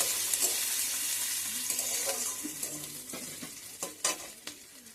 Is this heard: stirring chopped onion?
yes